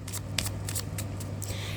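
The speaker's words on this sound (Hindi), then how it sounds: "Last shuffle." Tarot cards get a final quick riffle shuffle, with a series of short crisp flutters and snaps close up, repeating in a fast irregular rhythm over a faint low hum.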